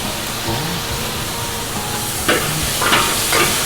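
Bitter melon with minced chicken and chili stir-frying in a hot pan, a steady close hiss and sizzle with a few sharper scraping bursts of stirring toward the end, and no voices.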